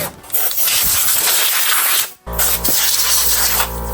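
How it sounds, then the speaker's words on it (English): A harsh, continuous drill grinds through a steel motorcycle subframe, loud and close, cutting out briefly before starting again. "we gotta drill some holes right through the subframe and secure it in place"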